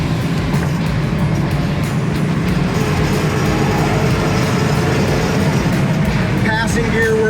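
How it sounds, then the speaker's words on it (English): A 1966 Ford Mustang Coupe with an automatic transmission drives on the road, its engine and road noise a steady, loud drone from inside the car, with voices talking over it. "Our little Mustang Coupe really gets up and goes nice."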